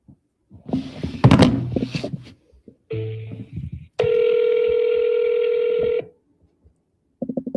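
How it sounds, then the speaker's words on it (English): Telephone dialing tones from a phone-bank call to voters: short clustered keypad beeps, then a steady two-second tone, with brief mumbled talk before and a clatter near the end. "Want to call Sneeko?"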